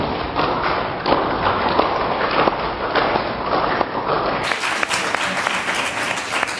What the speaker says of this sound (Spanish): Yolanda, te están aplaudiendo.